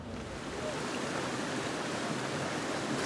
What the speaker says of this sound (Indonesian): ini salah satu hulunya Sungai Ciliwung, Sungai Cisampai yang berada di perkebunan teh Gunung Mas